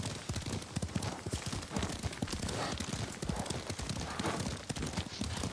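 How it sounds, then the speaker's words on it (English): Horse hooves gallop in Ghost of Tsushima, a fast, steady clip-clop rhythm that runs loud and continuous throughout, with a faint whinny and no talking over it. "Lord Sakai taught me to ride a horse."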